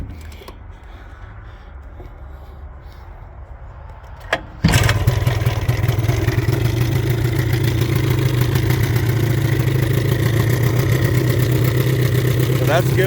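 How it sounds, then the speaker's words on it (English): An old 1973 Johnson 20hp outboard motor in need of repair cranks and starts with a sharp burst, then runs loudly and steadily in neutral, revving with a constant rough drone. "So that's giving it throttle in neutral."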